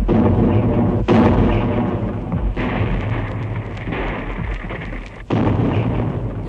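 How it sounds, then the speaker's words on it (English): Heavy artillery bombardment of the ancient town of Ypres during the Second Battle of Ypres in 1915, with continuous deep rumbling booms and sharp blasts under a dense, loud roar. "still heavier bombardments beat upon the ancient town"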